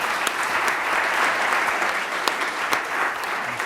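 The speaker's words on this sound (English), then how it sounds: "Oh, you got a clap." An audience applauds at an LSE public lecture, a dense, steady clapping from a sizable crowd with a few sharper individual claps standing out, heard alone for several seconds.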